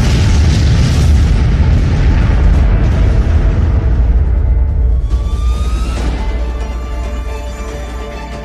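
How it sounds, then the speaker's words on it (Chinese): A bomb goes off in a dramatic scene: a heavy, loud boom with deep rumbling that rolls on for several seconds and slowly fades, with faint ringing debris tones near the end. "有炸弹！"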